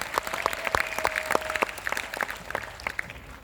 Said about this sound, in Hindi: तालियां बजा के बताओ यार